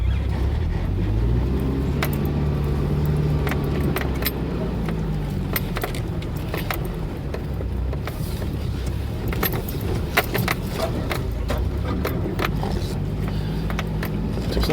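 Jeep crawling over a rocky obstacle on an off-road trail, a steady low engine rumble throughout with scattered sharp knocks and clatters as the tires and body shift over rock, close and continuous.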